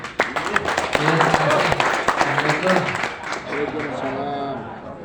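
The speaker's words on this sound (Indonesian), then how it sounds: "aplaus buat Pak Marudin" An audience at a workshop applauds Pak Marudin with a burst of clapping that swells and stays steady, while voices talk over it throughout.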